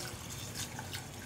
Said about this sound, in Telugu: దానికి సరిపడా నీళ్ళు పోసి పెసలతో